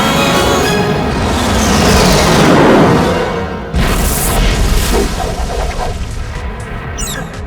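A loud cartoon turbo explosion from an animated action series: a roaring, rumbling blast that swells, cuts off abruptly near the middle, then continues as crackling debris and rumble.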